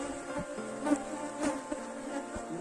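A defensive honeybee swarm buzzes continuously at low volume, a dense droning hum with slight swells and no voices over it.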